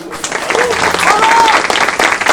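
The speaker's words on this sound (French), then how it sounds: "méritent quand même nos applaudissements." An audience at an Aubervilliers arts and culture award ceremony applauds, a dense, steady wash of clapping with faint voices mixed in, lasting a couple of seconds.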